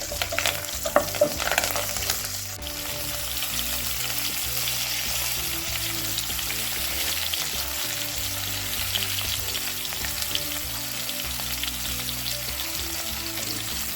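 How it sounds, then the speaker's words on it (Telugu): Dried red chillies frying in hot oil for sambar, a dense continuous crackling sizzle with occasional stirring scrapes, steady and close throughout with no voices. "ఎండుమిర్చి కూడా వేసి వేయించాలి"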